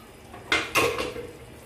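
A cooking pot of mutton and cauliflower is opened after steaming, giving two sharp metallic clanks of the lid about a quarter second apart, close and fairly loud, followed by a brief rattling tail in a quiet kitchen.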